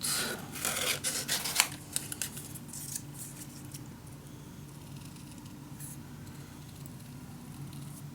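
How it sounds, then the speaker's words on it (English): Paper being cut out with scissors during a papercraft build of a Sherlock Holmes secret storage unit; a few close snipping and rustling strokes in the first two seconds, then a quiet room hum. "I'm just going to cut this one out."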